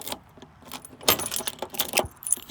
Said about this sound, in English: This was the original keychain and the original keys from the dealer.